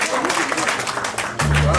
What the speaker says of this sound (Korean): 박수 많이 해주십시오.